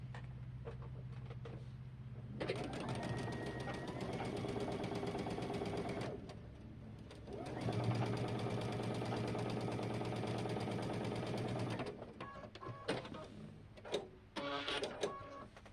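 A sewing machine stitches quilt block triangles in two long, steady whirring runs with a brief pause between them, close and fairly quiet, followed by a few short bursts of handling noise.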